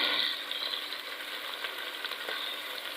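Tomatoes, green chillies and spices fry in oil for a degi kofta anda curry, giving a continuous, fairly quiet sizzle with faint crackles and occasional stirring scrapes.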